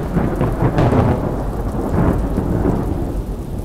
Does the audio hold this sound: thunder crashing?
yes